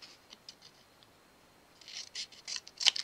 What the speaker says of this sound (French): Là, tac, je coupe la pointe.